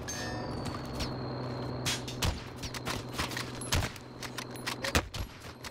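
Bursts of gunfire in the Warzone battle royale game: several sharp shots and short volleys scattered over a steady background hum, with faint metallic clinks, no talk.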